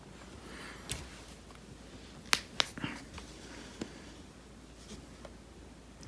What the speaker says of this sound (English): I crack every time I move now.